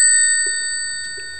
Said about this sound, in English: Bells of two tones.